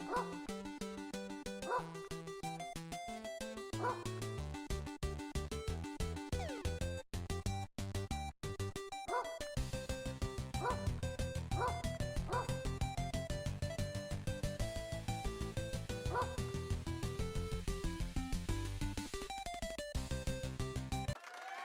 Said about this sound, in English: instead of hearing a meow when they collect a fish or mouse, they will hear a bark